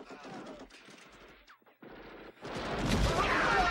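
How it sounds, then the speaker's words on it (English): Movie gunfire during a 1986 action film fight scene, rapid bursts of shots and crashes, sparse at first and then a dense, louder barrage of automatic fire. "Now that gunfire is over with"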